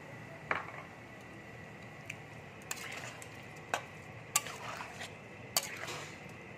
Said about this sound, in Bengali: আলুটা দিয়ে একটু নেড়ে চেড়ে আমি জল দিয়ে দেবো।